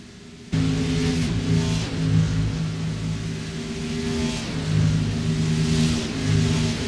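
Race car engines in the iRacing video game at Charlotte burst in loudly and rev continuously, with rising and falling pitch as cars accelerate and downshift, a dense, sustained mid-range roar with no talking.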